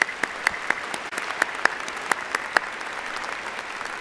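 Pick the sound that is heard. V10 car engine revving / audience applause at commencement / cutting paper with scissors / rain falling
audience applause at commencement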